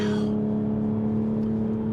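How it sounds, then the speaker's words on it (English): A 2021 Toyota GR Supra GTS straight-six engine hums with a smooth, even drone, heard from inside the car at moderate speed, with a brief brighter rush at the start. "the sound from that straight six is just extraordinary"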